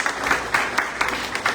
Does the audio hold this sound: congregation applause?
yes